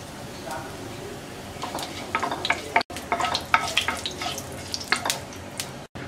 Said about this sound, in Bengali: এর মধ্যে আমরা দিয়ে দিচ্ছি হাফ চা চামচ আস্ত জিরা